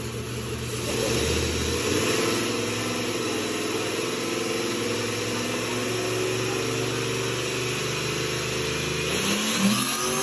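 The V8 of a stock Mercury Marauder drones and revs loudly and continuously in high gear, holding a sustained, close engine roar that shifts pitch near the end.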